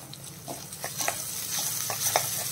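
A paste of green chili, garlic and ginger fries in a pan, giving a steady crackling sizzle with light stirring taps that builds slightly louder toward the end.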